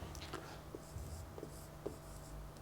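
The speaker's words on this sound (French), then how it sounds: "Donc la sortie, je vais l'écrire quand même quelque part" Hand writing out a transfer function output during a lecture on system analysis, a few soft scratchy strokes over a low room hum, quiet and close without speech.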